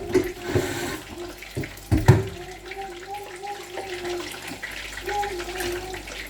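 Tap water running while a cooking pot is rinsed of leftover tomatoes in a home kitchen during stew making, a steady moderate splashing flow with a few clattering knocks of the pot near the start.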